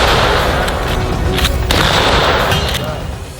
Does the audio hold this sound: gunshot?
yes